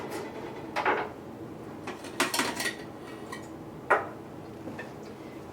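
Knife slicing a piece of fresh ginger in half on a cutting board, heard as a few sharp, separate close taps and clicks spread across a quiet kitchen moment, with no talking.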